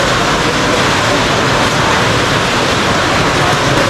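Heavy rain pours steadily on the Pahalgam route of the Amarnath Yatra, a loud, dense, unbroken hiss close by with no talk.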